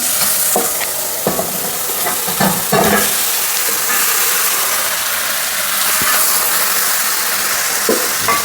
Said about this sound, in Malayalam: നമ്മൾ നേരത്തെ പെരട്ടി വെച്ചിരിക്കുന്ന ചിക്കനെ ഈ ചിക്കനെ ഇതിൻ്റെ അകത്തോട്ട്